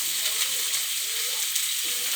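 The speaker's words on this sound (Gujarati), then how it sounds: "થોડીક ડુંગળી બ્રાઉન કલર જેવી થાય ત્યાંથી આપણે એને સાંતળવાની છે." Onions sautéing in a pan with Maggi noodle masala, giving a steady close sizzle and frying hiss with faint scrapes of stirring throughout.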